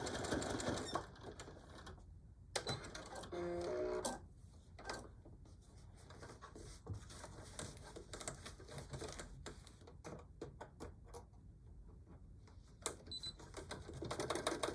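A sewing machine back stitches a denim cell phone pouch, producing faint, uneven bursts of clattering and ticking with small knocks between them, quiet and close.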